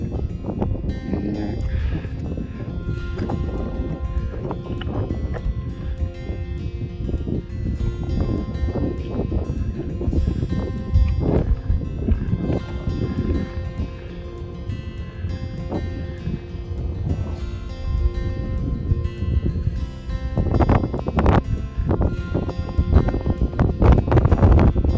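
Steady, loud wind buffeting the microphone on an exposed Scottish mountain summit in Torridon during mixed weather, a continuous rushing roar with gusts swelling louder toward the end.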